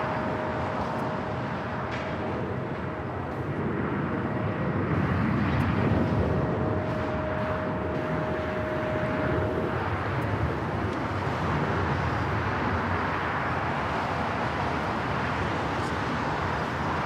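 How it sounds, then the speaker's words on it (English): A Delta Airlines Boeing 767-300ER taking off from Los Angeles LAX, a steady broad jet engine roar that swells slightly in the middle and holds loud and continuous, heard from the ground at a distance. "That takeoff was Delta Airlines Flight 991 taking off to JFK"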